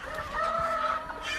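Hens cackle and cluck inside a chicken coop of laying hens, a close, steady run of honking calls over a short stretch with no talking.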